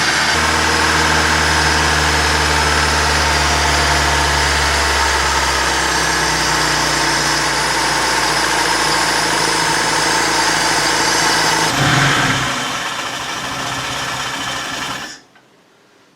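Opel Kadett petrol engine idling steadily and loudly with its carburettor being adjusted, running evenly for about twelve seconds, then faltering briefly before cutting out near the end.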